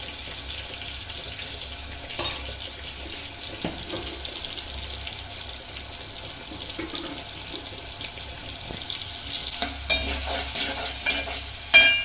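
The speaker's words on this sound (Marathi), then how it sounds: "हे मसाला चांगला परतून घ्यायचा, म्हणजे कांद्याचा कच्चापण पण चालला जातो." Onion and masala sautéing in a pan for a chicken dish, stirred over low heat: a constant soft sizzle with scraping spoon strokes and occasional clinks, close and steady, with no voices.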